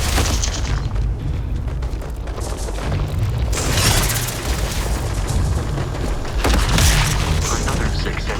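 Gunfire and explosions in a Starfield combat fight, loud booming blasts and rattling shots layered densely over several seconds, with bursts swelling around the middle and near the end, and a voice speaking over the din.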